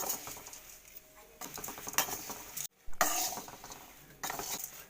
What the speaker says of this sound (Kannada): ಚೂರು ಎಣ್ಣೆ ಹೊಕ್ಕೊತೀನಿ ಈಗ ಮತ್ತು ಒಂದು ಸ್ವಲ್ಪ ಅವಲಕ್ಕಿ ಹೊಕ್ಕೊತೀನಿ ಇನ್ನು ಸ್ವಲ್ಪ ಚೆನ್ನಾಗಿ ಹುರ್ಕೋಬೇಕು